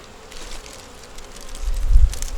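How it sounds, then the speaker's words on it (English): Honeybees buzzing around a hive being fed pollen in spring, a soft steady hum close by that swells louder toward the end, with no talk. "This is honeybees."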